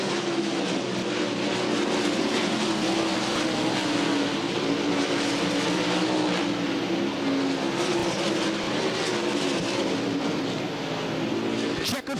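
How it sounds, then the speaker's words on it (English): World of Outlaws sprint cars race around a dirt track at Baytown, Texas, during a heat race, their engines a loud, continuous roar with no break. "Swindell works his way to the inside of McCall."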